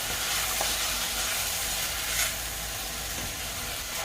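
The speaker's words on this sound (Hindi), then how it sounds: "अब इसमें अदरक लहसुन का जो पेस्ट है इसे ऐड कर देंगे। इसके साथ अच्छी तरह से भूनेंगे 1-2 मिनट।" Ginger garlic paste frying over a high flame, a steady, loud sizzle with faint stirring scrapes throughout and no one speaking.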